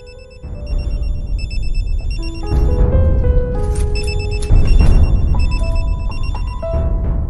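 A telephone rings with a melodic electronic ringtone, a sequence of bright tones repeating loudly and clearly over several seconds, with no voices over it.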